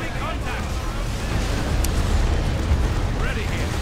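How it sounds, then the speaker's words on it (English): A grenade bursts in the Dawn of War II strategy game, a loud rumbling explosion that rolls on amid battlefield noise with a deep, sustained low roar. "Kashikins throw another grenade"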